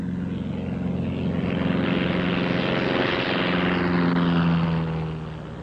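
Light propeller airplane taking off in a gusty crosswind from the right, its engine drone rising and swelling with a steady propeller hum, then easing away toward the end.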